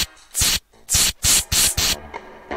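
Five short hissing bursts of spray from an aerosol can in the video game Jazzpunk come in a quick irregular series, loud and close, followed by softer clicks and faint noise.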